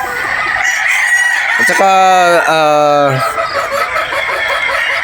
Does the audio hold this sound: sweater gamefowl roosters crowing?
yes